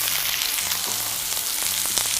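Onions fry in a pan on a gas cooker, giving a steady crackling sizzle with a faint low hum underneath.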